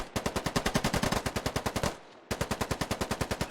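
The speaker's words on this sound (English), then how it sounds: "Ooh, looks like that shot went over." Automatic gunfire in the Squad Ops video game: rapid, evenly spaced shots in a long burst, a brief pause, then a second burst, loud and close with no talking.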